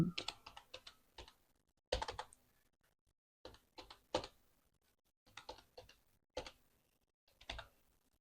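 Fingers typing on a computer keyboard, close and quiet, in short rapid bursts of clicking separated by brief silent pauses.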